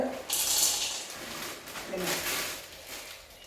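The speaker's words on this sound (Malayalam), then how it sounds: "നമുക്ക് വെള്ളം ഒഴിച്ചിട്ട് ജസ്റ്റ് ഒന്ന്" Water poured into a pan of soybeans, a close splashing gush that swells and fades twice, with a voice talking over it.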